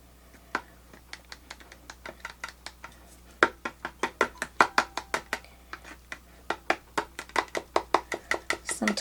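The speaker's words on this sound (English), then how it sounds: "So I'm going to get my little palette knife and stir this up a bit." A palette knife stirs car paint in a container, giving a steady run of sharp clicks and taps at a quick, regular pace against a quiet low hum.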